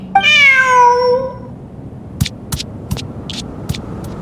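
A cat meows once in a long, drawn-out cry inside the video game Genshin Impact, followed by a series of soft, sharp clicks or taps, with no talking.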